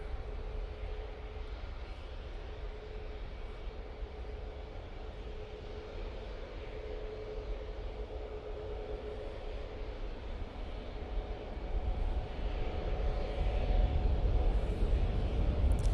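An airliner departs Manchester Airport for Dusseldorf, a low, distant jet rumble that builds gradually and grows louder toward the end, heard alone without talk.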